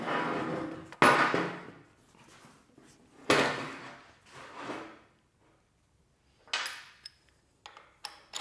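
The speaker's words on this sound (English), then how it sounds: "Now let's flip this over and measure how far that jaw opens on its maximum limit." A Vevor 5 inch milling vise is flipped over and its jaw opened, giving several sharp metallic clunks and knocks spaced apart, with scraping and sliding between them, close and fairly loud in a quiet room.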